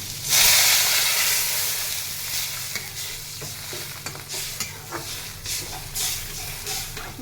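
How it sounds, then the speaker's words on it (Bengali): Water hits sizzling spice paste for a Bengali fish curry, a loud burst of hissing that slowly settles into steady frying with intermittent stirring scrapes. "ব্যাস, এবার আমি এর মধ্যে জল দিয়ে দেবো।"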